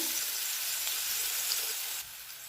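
Garlic sautéing in a pan, turned so it browns without burning, while cooking a dry country eggplant dish. It gives a steady, close, even sizzle and hiss that drops slightly in level near the end, with no talking.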